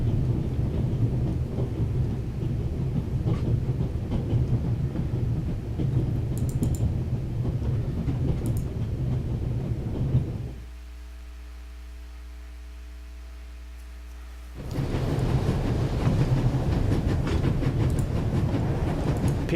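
A rocking train in the video game The Raven gives a continuous rumbling rattle of wheels and carriage. It drops to a low steady hum for a few seconds, then the clatter returns.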